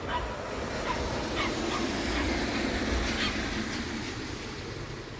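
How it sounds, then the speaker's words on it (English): Dogs barking and yipping intermittently in an outdoor park, several short calls at moderate distance over a steady outdoor background hum. "Lots of dogs around, as there normally is in these areas."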